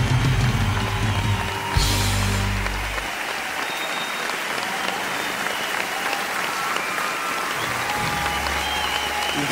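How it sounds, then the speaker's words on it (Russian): A big concert audience applauds at a show in St. Petersburg, a loud sustained wash of clapping that opens over fading music, swells briefly, then continues steadily to the end. "Спасибо вам за ваши аплодисменты."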